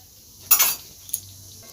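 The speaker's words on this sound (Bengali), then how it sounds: "এবার চাপা দিয়ে দেব আর আঁচটা একটু কমিয়ে দেব" A metal lid set onto a cooking pan of butter mushrooms, giving a bright clanking clatter followed by a lighter second clink, close and clear over a quiet kitchen hum.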